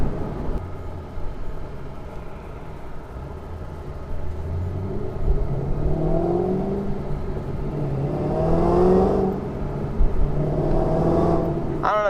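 A 2011 Shelby GT500 V8 rumbles steadily while driving, its exhaust note rising and swelling in several revving pulls as it accelerates, loud and close with a deep throaty drone throughout.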